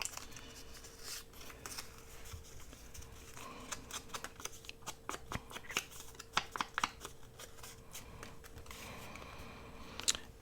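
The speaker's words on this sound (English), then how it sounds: "So I am just going to cut a couple of little tags." Scissors cutting small paper tags for a paper-bag craft project, with scattered crisp snips and rustling paper, close and quiet, the clicks bunching up near the middle and end.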